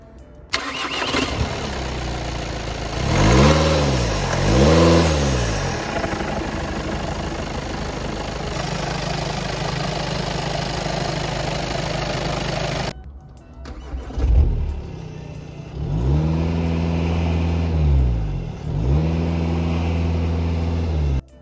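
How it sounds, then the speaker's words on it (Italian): A Volkswagen Golf 2.0 TDI DSG diesel starts up and runs, heard twice: each time the starter cranks, the engine catches with a couple of revving swells, then settles into a steady, close idle. "andiamo a verificare non solo l'accensione ma anche i fumi dagli scarichi"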